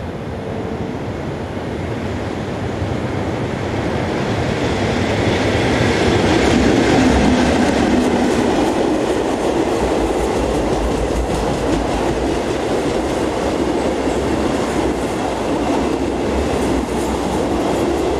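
A French BB8100 electric locomotive hauls a train past on a coastal line, a steady loud rumble with rhythmic clickety-clack of wheels on rail joints lasting throughout, swelling slightly midway as it goes by.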